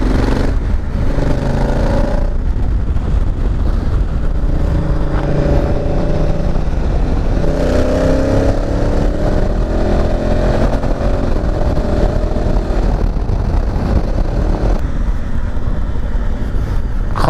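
A Honda Africa Twin CRF1000 adventure motorcycle is being ridden, its engine droning loudly and continuously with rising and falling pitch as it accelerates, mixed with heavy wind rush close to the microphone and no talking.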